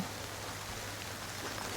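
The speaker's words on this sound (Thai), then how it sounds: "ตอนนี้ก็ฝนตก แล้ว" Light rain falls outdoors over a meadow of wild orchids at Tosteberga ängar, a steady soft hiss of drops with no other distinct sounds.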